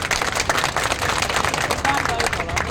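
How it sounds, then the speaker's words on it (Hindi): An audience breaks into loud, sustained clapping at a gathering about rural medical practitioners, a dense, continuous burst of applause with a little crowd murmur mixed in. "अगर सही है तो जोरदार ताली बजाइए।"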